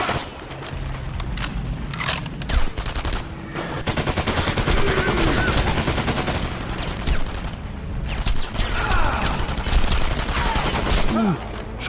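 Sustained heavy gunfire from German soldiers in the shooter game Enemy Front, dense overlapping bursts and rattling automatic fire continuing loudly throughout, with brief lulls around sharp shot clusters.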